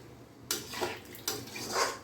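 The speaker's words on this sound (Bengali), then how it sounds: "এবার আমি ওতে জল দিলাম।" Water splashes into a pan of sautéed jackfruit curry in two short pours, with a sizzling wash and a light clatter after each.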